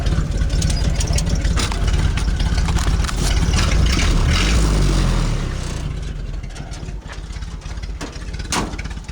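A 1932 Ford four-cylinder Model B flathead engine, running rich, idles steadily and close by, a low rumbling chug with a rough, uneven beat that swells slightly in the middle before settling.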